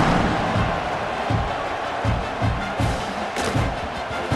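A football stadium crowd roars after a touchdown drive, a broad sustained cheer with a dense wash of noise and dull rhythmic thumps from stomping or clapping running throughout.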